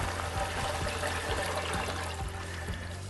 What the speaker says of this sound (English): So there's water coming out here in the top.